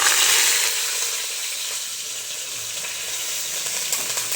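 Curry leaves hit hot oil for a tempering and burst into a loud, hissing sizzle that is strongest at first. The crackle then settles into a steady, even fry with faint pops. No voices are heard.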